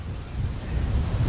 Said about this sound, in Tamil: இந்த இடத்த நல்லா காத்தடிக்குது